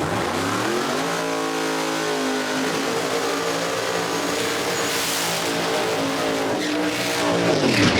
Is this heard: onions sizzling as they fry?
no